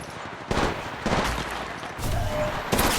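Bursts of automatic gunfire in the battle royale game Apex Legends, with several loud, dense volleys in quick succession and brief gaps between them.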